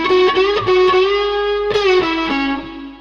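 Overdriven electric guitar phrase from a riff, close and loud, with quick picked notes, slides between pitches and a sharp re-attack midway before a tapering finish.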